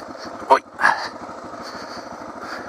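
A Suzuki DR650 motorcycle runs off-road in the bush, its engine a low, steady drone with short revving bursts, heard up close under someone talking.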